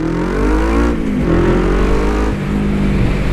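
A Kawasaki ER5 twin-cylinder motorcycle engine braking, a steady loud engine drone with falling pitch as revs drop, continuous and close, with brief shifts in tone.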